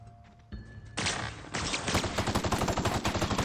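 Rapid automatic gunfire from a weapon firing on robots in The Outer Worlds, starting with a few single shots and then a steady, loud, evenly spaced burst.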